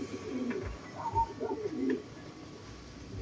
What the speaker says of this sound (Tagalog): Nasaan sila mga kalapatids? Ayan sila mga kalapatids, oh.